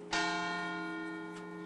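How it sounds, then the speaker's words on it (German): A single church bell strikes once in Grossarl, Salzburg, ringing loud and close with a bright attack and a long humming decay, lightly touched again near the end. "Die Kirchenglocke schlägt 8 Uhr"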